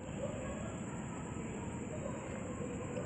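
A steady low rumble of a non-passenger KRL commuter train rolling along track 3 on the Cikarang line, continuous and fairly close, with a faint high whine above and some muffled voices.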